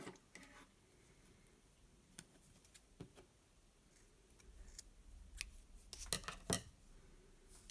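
Scissors snip through crochet yarn to cut it off after the last stitch atop a crocheted Easter egg; two quick, close cuts come near the end of an otherwise quiet stretch.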